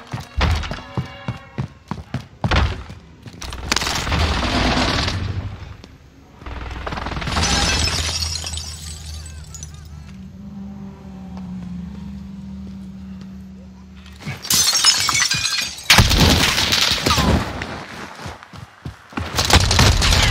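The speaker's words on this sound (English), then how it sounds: "Enemy precision airstrike," Precision airstrike explosions in the Caldera map of a Call of Duty Warzone match: a run of loud, heavy booming blasts erupts near the end, following scattered thuds and game sounds.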